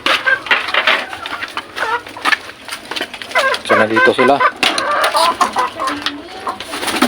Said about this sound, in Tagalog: check natin yung mga ibon natin